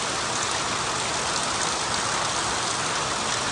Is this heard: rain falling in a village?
yes